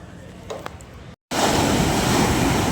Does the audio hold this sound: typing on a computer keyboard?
no